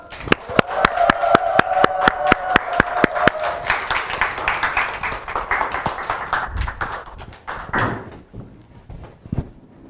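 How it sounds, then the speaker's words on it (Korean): An audience claps for a university economics professor about to give a lecture on prosumer marketing, starting with sharp individual claps and swelling into steady applause with a voice over it, before tapering off to a few isolated claps. "여러분 큰 박수 부탁드리겠습니다."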